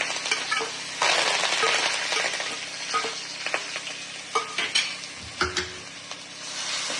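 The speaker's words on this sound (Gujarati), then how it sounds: "તો આપણે જીરું નાખીશું, હિંગ નાખીશું, લીલા મરચાં, આદુ અને લસણની પેસ્ટ બનાવી દીધી આપણે નાખીશું." Cumin, asafoetida, green chillies and ginger-garlic paste sizzle in hot oil in a pan, a steady close frying hiss broken by spoon scrapes and stirring clatter, without talk.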